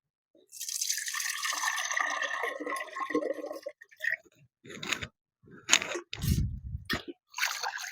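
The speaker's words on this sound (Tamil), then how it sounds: "இந்த தண்ணியை வந்து நம்ம இதில் ஊற்றிக்கிறோம்" Rice-washing water from a second rinse poured into a pot, a splashing stream at first, then intermittent drips and trickles with short pauses, close and fairly quiet.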